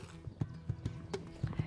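Horse hooves clip-clop on the ground in a steady, uneven walking rhythm of sharp knocks, fairly close and moderately loud, with no talking.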